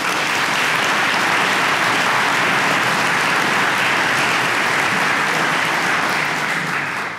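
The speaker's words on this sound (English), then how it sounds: "let's give them a round of applause" Audience applause fills a hall at an agriculture college event, steady, dense clapping from a large crowd that holds at full strength throughout and tapers off only at the very end.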